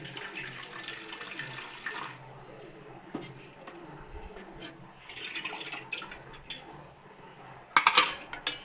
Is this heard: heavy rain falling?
no